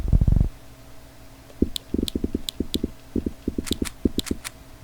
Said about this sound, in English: Oh, sounds like we just got 2 new dice.